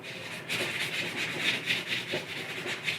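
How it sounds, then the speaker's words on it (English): Light, steady abrasive scuffing on a 1/6 scale Hulk figure ahead of repainting, a continuous rubbing rasp in repeated close strokes with no voices. "make sure we give him a light scuffing"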